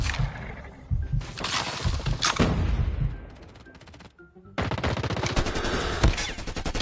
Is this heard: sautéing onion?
no